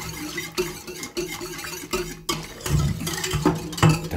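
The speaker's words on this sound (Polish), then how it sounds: "Mieszamy." Egg yolks stirred into a pot of milk soup, a spoon scraping and knocking against the pot in irregular strokes, close and fairly loud with no talking.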